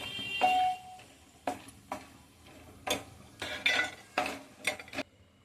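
Irregular clinks and scrapes of a spoon stirring cashews and peanuts frying in oil in a pan, soft sizzle, several sharp knocks spaced unevenly, no talk.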